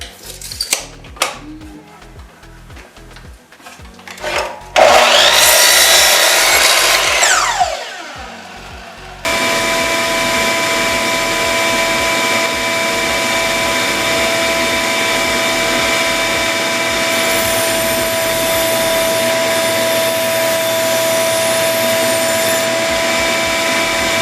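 A wood lathe turns down a knotty log toward 1 3/4 inch for a log Adirondack chair, with choppy tool-on-wood rumble and bursts of scraping, then a steady, loud motor whine with sustained cutting noise.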